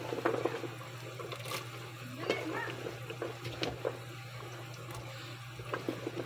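A pot of sinigang na baka, beef sour soup, at a rolling boil on a home stove, giving a steady close bubbling and sloshing with small pops and a low hum underneath, no talking.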